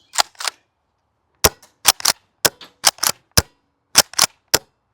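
Golden Eagle KSG toy shotgun firing in sharp, loud snapping bursts, mostly paired shots with short gaps between groups, close and dry, with no talking.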